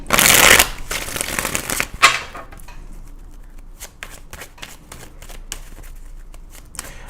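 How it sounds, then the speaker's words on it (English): Tarot cards are shuffled close by, opening with a loud riffling burst followed by softer rapid flicks and taps as the deck is worked by hand, with no talking over it. "while I'm shuffling Sherry's cards"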